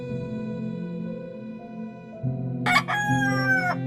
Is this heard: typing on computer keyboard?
no